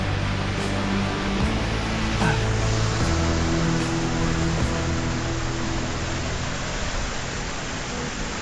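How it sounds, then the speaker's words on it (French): Waterfall cascade in the Vaucluse, France, a steady broadband roar of falling water that stays loud and constant throughout, close by with no talking. "je vais vous montrer l'autre cascade"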